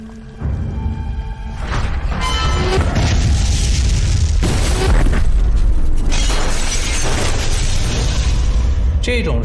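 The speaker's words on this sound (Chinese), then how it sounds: "刘彦生悄悄潜入林宅，布置好了福尔马林以及引发瓦斯爆炸的机关" A gas explosion tears through a house in a 1920s period drama, a loud booming blast followed by sustained roaring rumble and shattering debris, close and overwhelming.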